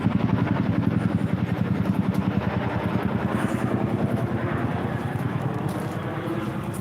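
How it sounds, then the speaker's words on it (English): A steady military Huey helicopter engine drones throughout, rhythmic rotor chop pulsing continuously at moderate distance with no speech. "we got a military helicopter somewhere."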